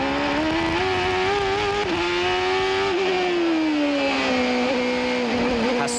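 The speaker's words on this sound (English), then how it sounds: "Listen to the throttle." A 1995 IndyCar race car at Laguna Seca, recorded onboard, its engine screaming loud and continuous as the throttle rises and falls through a corner, the pitch dipping and climbing again.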